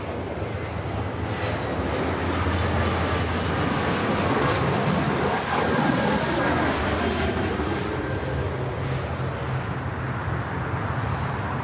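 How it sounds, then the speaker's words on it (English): Airbus A380 jet airliners at LAX airport give a loud, steady jet engine roar that holds evenly throughout, with no pauses or talk. "There we go, 2 A380s in one shot here."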